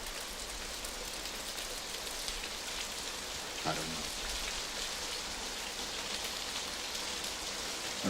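Rain falls in a scene from the film Cast Away, a soft, even hiss that continues quietly throughout, with a brief spoken phrase midway.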